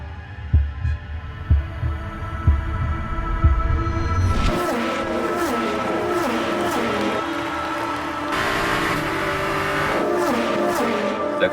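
An LMP3 prototype race car engine at a race start at Spa-Francorchamps during a four-hour endurance race. A few low thumps give way to a loud, sustained engine roar with rising and falling revs as the cars accelerate away, close and alone with no talk.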